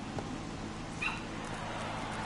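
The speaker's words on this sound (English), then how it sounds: "Dogs barking for no reason." Dogs bark faintly in a baseball stadium in MLB The Show 24, a brief yelp-like call standing out over steady crowd noise.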